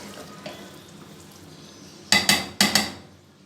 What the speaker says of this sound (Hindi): इसको बहुत प्यार से प्रेम से चम्मच मारना होता है ताकि ये टूटे नहीं।